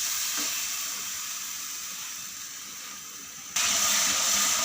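Onions frying in a pan give a steady hissing sizzle that fades slightly, then jumps louder near the end as if stirred or with something added, with no talking.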